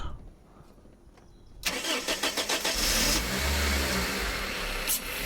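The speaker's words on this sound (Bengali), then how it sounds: "দেখেন গাড়িটা স্টার্ট করলাম" A TRH-200 van with a fairly fresh engine cranks briefly and fires up after a quiet start, settling into a steady, smooth mid-pitched idle close by, with no talking.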